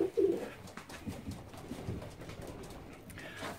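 Pigeons from breeding pairs in a loft coo softly and low, with a few murmured calls over a dull, steady background of rustling and noise.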